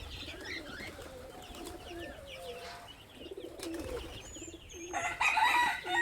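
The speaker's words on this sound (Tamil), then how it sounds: "நம்ம பேரண்ட்டை பெரிய புறாக்களை யாராவது திறந்து விட்டாச்சு." Domestic pigeons, including large parent birds let out of their loft, coo repeatedly in a soft, steady chorus, with a louder burst of wing flapping near the end.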